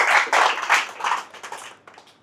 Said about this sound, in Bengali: প্লিজ আমরা জোরে হাততালি দিয়ে এটাকে অ্যাপ্রিসিয়েট করার চেষ্টা করি